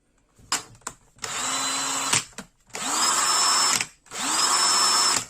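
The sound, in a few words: Bosch GSR12 cordless drill running at idle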